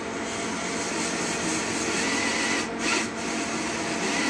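A steady, whirring electric drill lapping an engine cylinder valve runs continuously with a gritty grinding rub underneath, constant in level apart from a brief dip near the end.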